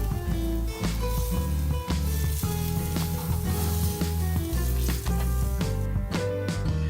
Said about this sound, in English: grill each side of the steak for an additional 5 minutes on each side